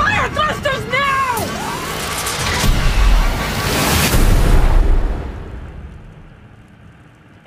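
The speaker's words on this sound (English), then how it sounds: "Fire thrusters now!" Spacecraft thrusters fire in a movie trailer effect, a rising swooping whine followed by a loud, deep rumbling roar that swells and then fades away to near silence.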